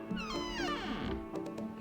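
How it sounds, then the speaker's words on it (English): A pet cat meows outside a door in two drawn-out, rising-then-falling cries, close and clear, with faint jingling between them. "I can hear my kitty cat jingling outside the door."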